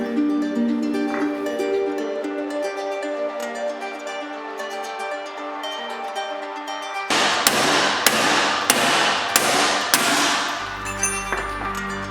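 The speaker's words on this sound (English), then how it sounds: "Then I finished it off with a hammer and chisel." Sharp metallic hammer strikes on a chisel against a nut ring out in a quick series of about six blows during rear disassembly of a Mitsubishi Eclipse, following a stretch of background music.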